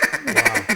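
A duck call blown in a rapid feed call, a fast, close, loud chatter of short clipped quacking notes rolling together with barely a pause.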